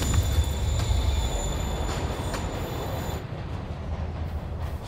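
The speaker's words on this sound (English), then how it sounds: "Train moving. Lee's getting away." A train in the video game Marvel's Spider-Man rumbles along with a heavy low roar and high squealing wheel tones, the squeal cutting off partway while the rolling rumble continues.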